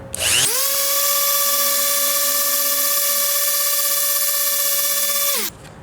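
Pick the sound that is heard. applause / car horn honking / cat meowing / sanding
sanding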